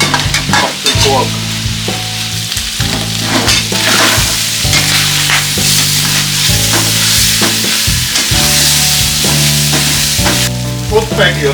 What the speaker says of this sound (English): Kind of second fry. And render out some more fat of the pork.